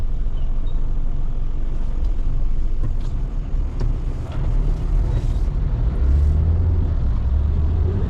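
Car driving through Georgetown, Guyana traffic, a steady low engine and road rumble heard from inside the vehicle, with faint passing vehicle noise and no talking.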